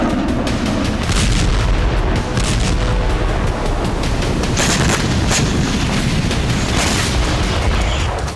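Heavy blasts and rumbling from Israeli strikes on Beirut, a dense continuous roar of booming impacts with sharper bursts throughout, loud and sustained with no talk.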